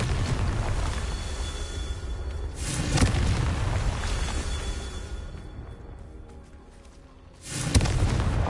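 Confringo blasting spells in the video game Hogwarts Legacy go off as loud explosive booms, one near the start and one at the end, with rumbling game ambience filling the gap between them.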